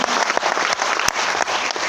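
A seminar audience applauds in a loud, sustained burst of dense clapping from many hands, close and unbroken for the whole stretch.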